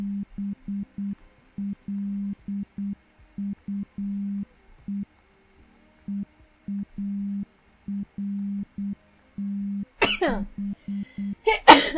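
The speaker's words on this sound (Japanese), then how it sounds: "くしゃみで全然わかんなかった。" A sneeze bursts out loudly and close near the end, followed by a second sharp outburst, after a long run of steady on-off electronic beeps of short and long durations.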